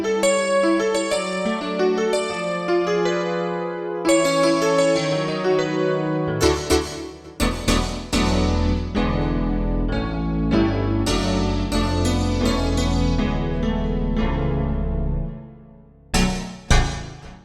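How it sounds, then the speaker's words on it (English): A layered synthesizer patch blends acoustic piano, electric piano and a sparkly digital tone, playing loud, bright sustained chords and runs with sharp attacks and decaying tails, alone with no talking. "that sound is layered, you know, inside of itself. There's you know, acoustic piano sound in there. There's electric piano, the sparkly digital thing."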